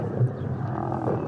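Lions growl and roar while jostling to feed on a carcass in the wild, where aggressive teenage males shove their way in among the pride. A steady, close rumble of growls continues throughout, with no talk.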